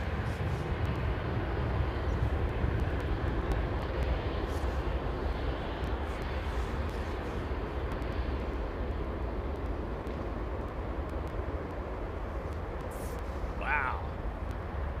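Airbus A350 airliner landing at London Heathrow with thrust reversers deployed, a steady loud broadband roar holding throughout, heard from nearby with a faint high whine near the end.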